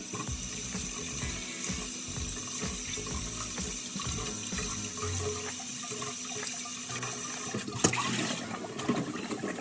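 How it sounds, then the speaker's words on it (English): Tap water runs steadily over mushrooms being rinsed in a sink, a continuous faint splashing flow with small shifting clatters as the mushrooms are handled, and a brief knock near the end, without talking. "So I'm going to rinse these off."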